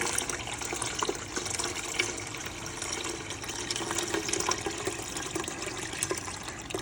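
Water is poured onto jaggery for kheer puda, a continuous splashing, trickling pour heard up close and steady for several seconds with no talk.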